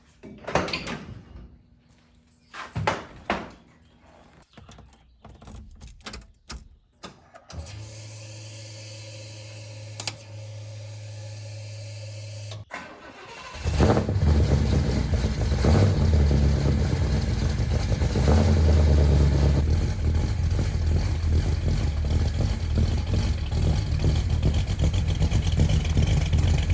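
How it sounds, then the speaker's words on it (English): A 1970 Oldsmobile Cutlass starts with a few clicks and knocks, settles into a steady low idle, then roars louder and holds a close, continuous engine rumble as it pulls out. "we're going to go ahead and just back out the Cutlass"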